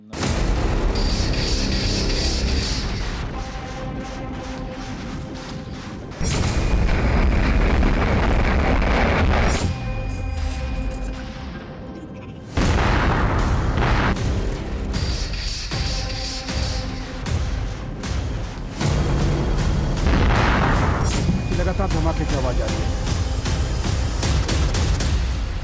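Explosions and artillery fire in a Ukraine war zone, heavy booming blasts and crackling bursts in several long loud bouts separated by brief lulls, with wind buffeting the microphone.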